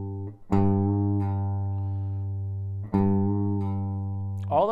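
An electric guitar chord, fretted too hard and slightly out of tune, is strummed twice and left to ring out loudly with a sustained, slowly fading tone.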